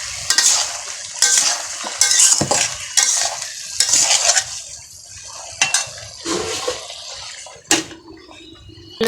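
A frying tengra fish and potato curry with eggplant being stirred in a pot: repeated loud, close scraping strokes of a utensil against metal, with a light sizzle underneath and no talking.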